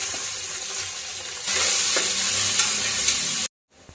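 Green chillies fry in hot oil, giving a bright, continuous sizzle that jumps louder partway through and then cuts off abruptly.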